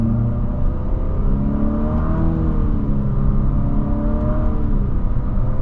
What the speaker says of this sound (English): we got the simulated gears as you hit the paddles